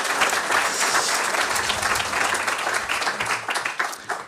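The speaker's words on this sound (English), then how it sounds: "give them a warm round of applause" An audience gives a panel a warm round of applause at an event on AI and human creativity, dense steady clapping that thins out toward the end.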